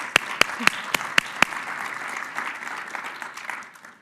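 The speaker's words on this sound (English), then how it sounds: "Let's give them a round of applause." An audience at a talk on bodily autonomy gives a round of applause; a few loud, sharp nearby claps open it, then the dense clapping carries on steadily before tapering off.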